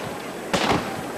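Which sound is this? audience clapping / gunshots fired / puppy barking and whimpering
gunshots fired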